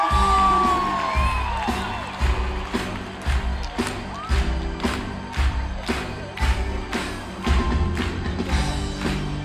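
A concert audience in Toulouse claps and cheers loudly, with whoops and whistles over rhythmic beats as an eighties pop artist is welcomed onto the stage.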